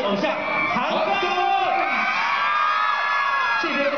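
A crowd greets Han Geng on the red carpet at the Tencent Star Awards with loud, continuous high-pitched screams, whoops and cheering that fill the whole stretch.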